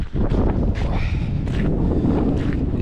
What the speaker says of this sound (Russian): Ветер все еще не прекращается.